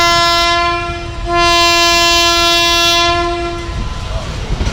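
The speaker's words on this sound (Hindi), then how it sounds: "पीएचए का हॉर्न भी सुन लिया आपने।" Horn of a passing Awam Express train crossing at a station in Punjab, Pakistan: a loud sustained harmonic blast, briefly dipping then resuming, holding about four seconds before fading into rumbling rail noise.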